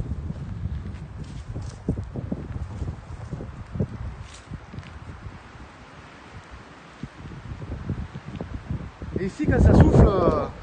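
Wind buffets the microphone in low rumbling gusts outside an abandoned lock-keeper's house, with rustling and scattered knocks, growing louder and rougher toward the end.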